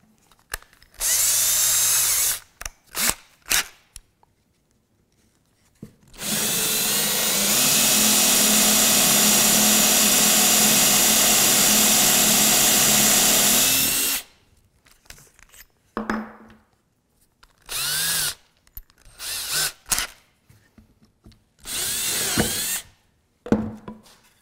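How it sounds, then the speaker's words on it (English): Power drill boring a countersink and clearance hole into a wooden rocking chair arm, several short bursts followed by one long steady whine of about eight seconds, then more brief stop-start runs, loud and close with no talking. "let me take a second and drill my countersink hole on this arm"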